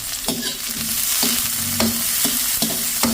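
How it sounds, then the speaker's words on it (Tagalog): Garlic, onion and ginger sautéed together in a pan for a crab dish, a loud steady sizzle with a few scraping stirs of a utensil against the pan, no talking. "Igisa na po natin ating bawang sibuyas tsaka luya."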